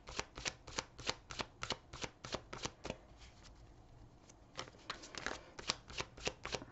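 Oracle cards shuffled by hand, a quick series of crisp riffling slaps in steady bursts, close and clear, with a short pause midway before the shuffling resumes.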